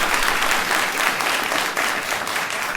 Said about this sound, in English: A round of applause for the 3 awesome.